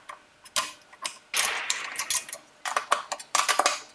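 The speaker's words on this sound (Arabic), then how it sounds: "حين نقدر نشد الشدة النهائية ونستخدم فيه مفتاح رقم 10" A number 10 wrench gives a final tightening to the bolts of a 21-inch scroll saw stand, producing close, rapid metallic clicks and ratcheting bursts in short irregular runs, with no talk.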